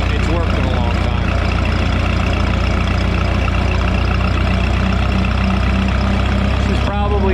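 A Minneapolis Moline tractor's 302 engine drones steadily and loudly at a show in Mt Hope, Ohio, a continuous low rumbling throb held close throughout with a brief clunk near the end.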